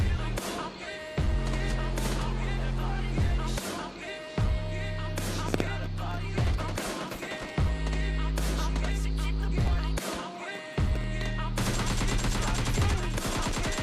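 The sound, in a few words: gunfire in video game PUBG Mobile Lite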